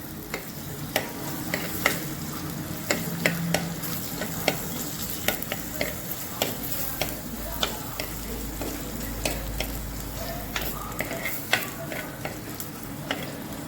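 Vegetables for sweet corn soup sizzle steadily in a frying pan, with frequent sharp clicks and scrapes from stirring throughout.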